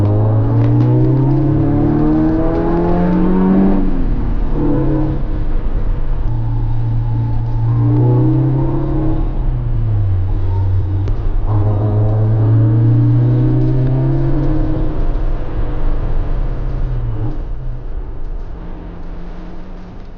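A Toyota AE86 Hachiroku with a 20-valve engine swap and quiet exhaust drives steadily, its engine note climbing and falling through repeated gear changes for twenty seconds, loud and close, easing slightly at the end.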